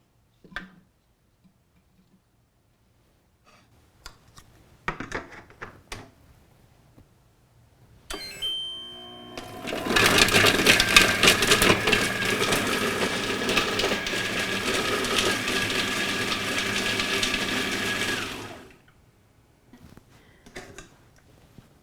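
A Multo by CookingPal cooking machine chops aromatics in its mixing bowl, with a few ticks and beeps first, then a loud, steady whirring blade run of about eight seconds that stops abruptly.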